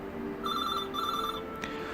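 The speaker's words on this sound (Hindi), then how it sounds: "तभी टेलीफोन की घंटी बजी।" Telephone bell ringing in two close bursts, a bright repeated trill that stops briefly and resumes, heard alone without any voices nearby.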